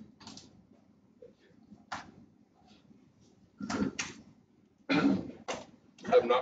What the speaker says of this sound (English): I've not coughed all day.